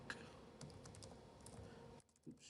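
Soft, quiet typing on a computer keyboard, a few scattered keystrokes over a faint background hum, ending in near silence; close but low in level, while someone codes a p5.js paint app.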